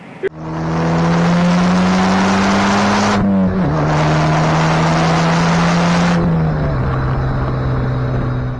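A Cadillac's turbocharged engine pulls hard and loud up close, its steady droning roar breaking at two gear shifts while the turbo whooshes along with it.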